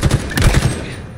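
Rapid gunfire in a tactical shooter video game, a dense burst of overlapping shots lasting about a second, loud and close with no talk over it.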